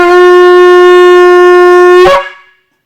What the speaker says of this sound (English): Tikiyah is a note that's meant to call the congregation together. It's about 4 seconds long, and it's one continuous note.